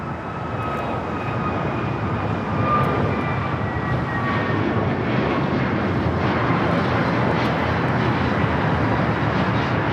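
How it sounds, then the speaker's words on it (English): An American Airlines A321neo jet takes off from a wet runway at LAX bound for Miami, a loud, sustained engine roar with a rising whine, heard close and steady throughout. "865 taking off to Miami, Florida on the A321neo"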